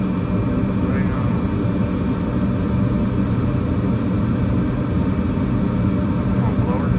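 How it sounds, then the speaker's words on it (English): A furnace blower motor running as a steady loud broadband whoosh and rumble, continuous and close, with a voice talking over it. "Come on, blower. Here it goes."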